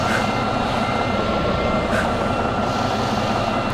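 A steady, loud engine drone runs through American Truck Simulator, a game jet engine that sounds rather like a bandsaw, with a constant rasping roar and faint periodic swells.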